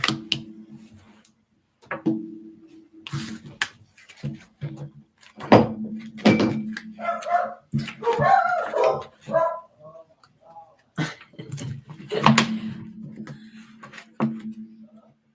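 Dogs bark in short, irregular bursts, close by, mixed with a few yips and whimpers between the barks.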